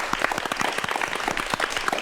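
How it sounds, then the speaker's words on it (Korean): Audience applause at the close of a lecture on virtual reality, a steady dense patter of many hands clapping throughout, fairly close and filling the room with no talk over it. "박수 부탁드릴게요."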